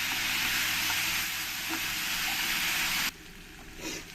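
Tomato frying with spices in a pan, a loud bright hissing sizzle with stirring, cutting off abruptly partway, followed by quieter low cooking sounds and faint scrapes.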